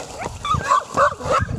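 Dogs greet a returning motorhome in Kosovo with a quick burst of close, excited barks, yips and whimpers packed into under two seconds.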